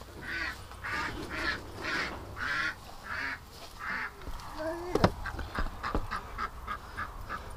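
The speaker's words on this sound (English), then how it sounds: "Poor ducks get all worked up." Agitated ducks quack in a regular series of loud, close calls while a dog named Doug sniffs around them. A few sharp clicks and knocks follow near the end.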